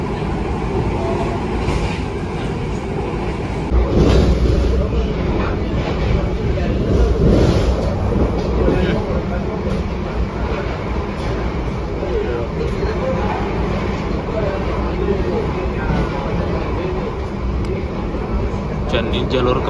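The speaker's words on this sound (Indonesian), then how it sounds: "Kereta apa tuh?" From aboard a moving train there is a constant rumble and clatter of rails, with louder swells where another train seems to rush past close by.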